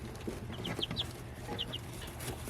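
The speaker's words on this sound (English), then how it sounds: "So here are the chicks. They're a little over 2 weeks old." Chicks a little over two weeks old in a brooder make scattered soft peeps and short chirps over a steady low hum, faint and close, with no voices.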